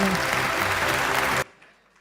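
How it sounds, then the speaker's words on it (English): Applause at the e4m Health and Wellness Marketing Awards 2025 for the silver winners, a loud clapping wash with music underneath that cuts off abruptly partway through, leaving faint room sound. "Join me in applauding the team of Bayer, Consumer Healthcare and Saradon."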